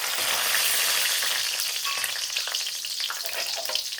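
Dried red chillies sizzle and fry in a pan of hot oil for chicken varuval, giving a steady, close, dense crackle with small pops and no voices throughout.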